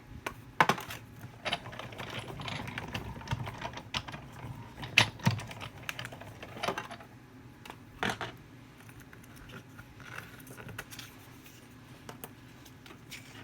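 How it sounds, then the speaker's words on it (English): A Big Shot die-cutting machine runs a paper wreath die through, giving a steady stream of small clicks, taps and rustles up close with a few sharper knocks, no talking. "I'm going to quickly run it through my Big Shot. And I'm going to cut out this wreath"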